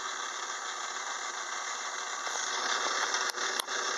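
A metal lathe runs with its back gears engaged, cutting 44- and 24-tooth gears on a short arbor supported by the tailstock: a steady mechanical whir and rattle, growing slightly louder partway through, with a couple of brief sharp clicks near the end.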